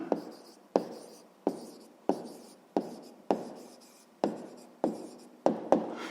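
A pen writes down an answer in a series of about nine sharp, evenly spaced strokes on paper, close and clear with no talking.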